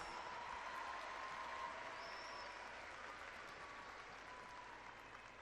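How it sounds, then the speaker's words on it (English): Steady applause from a large audience at a 2017 high school graduation ceremony, honoring the standing HS Squared STEM Academy graduates, sustained and even throughout without a break. "Please give them a round of applause."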